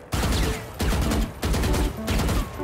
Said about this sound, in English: shoot your gun in the ground so it looks like there's armor